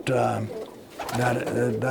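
Racing pigeons in a loft give soft, throaty coos, with two low cooing bursts close by under and between a man's speech.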